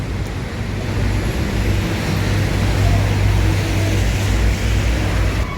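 An Epa Star bus pulls away with a loud, steady low engine rumble and broad road noise, running continuously and close by with no clear talk.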